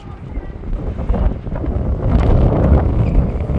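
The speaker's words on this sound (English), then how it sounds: "Oh, this wind's pretty cold, eh?" Cold wind buffets the microphone outdoors by an old convict-built stone bridge in Tasmania, a steady low rumbling roar that swells stronger toward the end.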